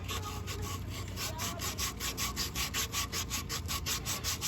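Emery cloth rubbed back and forth over creased metal to smooth a machine-made ridge back into its original round shape, a steady rhythmic rasping with about four strokes per second, close and continuous.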